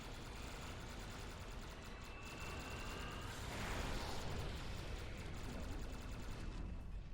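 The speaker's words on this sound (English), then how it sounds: "Fire the weapon!" Starship weapons fire and explode in a Star Trek Online space battle, a dense, continuous roaring barrage of blasts that swells louder around the middle and keeps rumbling to the end, with no voices.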